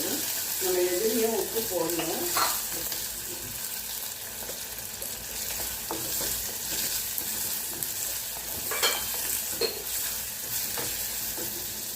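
Onions sizzle and fry in a pan for a Tamil palak kootu dish, a steady hiss throughout with scraping stirs and occasional clinks of the spoon against the pan.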